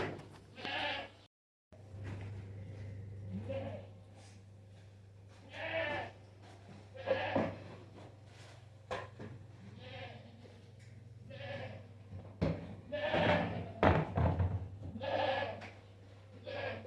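Goats bleat repeatedly, several animals calling near and far, with shuffling and barn noises between the cries.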